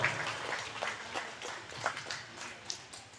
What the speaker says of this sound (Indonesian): kita boleh menyebut dan beri tepuk tangan untuk para anggota Dewan kita